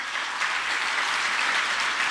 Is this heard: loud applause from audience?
yes